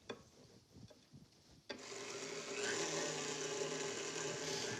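An electric mixer beats dry mix into a creamed butter and sugar mixture for apple cider donut muffins. Soft clinks come first, then the motor starts with a jolt and whirs steadily at close range.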